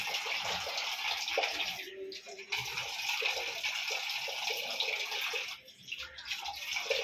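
Water rushes and splashes steadily while a face and hands are washed, close and continuous with a couple of short breaks in the flow.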